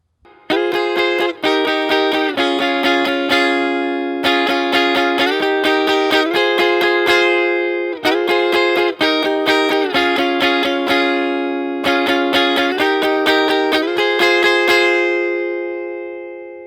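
A repeating progression of strummed guitar chords, each struck with a sharp attack and held, changing every second or so in a steady loop, loud and clear with no voices.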